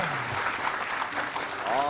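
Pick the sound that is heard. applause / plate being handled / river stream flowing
applause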